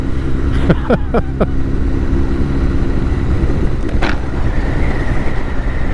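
Motorbikes ride through a town near the Brightlingsea waterfront, their engines droning steadily and close up, with a few sharp clicks and squeaks early on and a brief rising tone toward the end.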